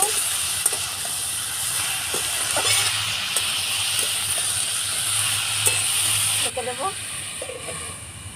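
Fish roe and ridge gourd with turmeric fry in a pan, a continuous hissing sizzle with occasional light stirring taps, and a brief change in tone near the end.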